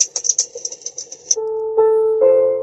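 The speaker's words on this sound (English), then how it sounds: "It's like a campfire." Campfire crackling from a portable sound machine comes as a quick run of sharp, irregular pops for about a second, then gives way to sustained electronic tones that step upward in pitch.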